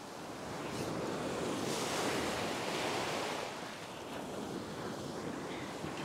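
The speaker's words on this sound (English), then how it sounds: "I wait till the bigger waves go and it settles down a bit" Ocean waves roll onto a beach where someone is fishing from the shore, a broad continuous wash of surf swelling and easing, mixed with wind buffeting the microphone and no talking.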